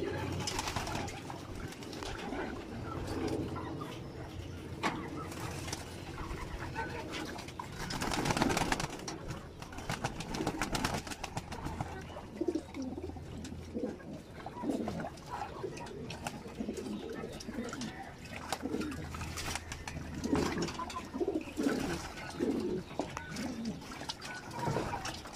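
Pigeons bathing in a water tray, with soft cooing and wing flutters mixed with faint splashing, a bright burst of flapping around the middle, all at low level and close by.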